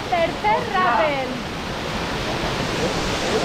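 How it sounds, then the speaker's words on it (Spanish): A tributary stream flows into a canyon watercourse in Barranco de Los Meses, Huesca, as a steady wash of moving water close by; a voice calls out briefly near the start. "aquí está afluente que tenemos, le da un poquito más de caudal"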